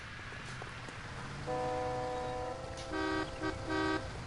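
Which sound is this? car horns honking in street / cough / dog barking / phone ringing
car horns honking in street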